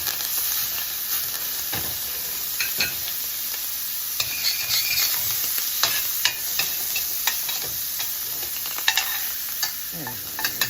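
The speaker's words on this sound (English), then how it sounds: "And now in goes a couple tablespoons of butter." A couple tablespoons of butter with fresh garden cilantro sprigs sizzle and hiss loudly in a pan beside seared steak, the heat already off, with stirring and basting scrapes cutting through the steady frying.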